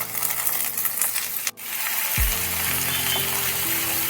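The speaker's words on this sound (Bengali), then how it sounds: "তেল যথারীতি ভালোভাবে গরম হলে কেটে ধুয়ে রাখা পটলগুলো দিয়ে দিতে হবে কড়াইয়ের মধ্যে" Pointed gourds hit hot mustard oil in a wok with a sudden low thump, then a steady close hiss and sizzle that continues to the end, following a brief quiet break.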